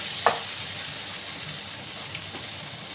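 Small shrimp (kucho chingri) sizzle steadily in a pan, with one sharp knock of the spoon near the start and faint scraping as they are stirred, close and without voices.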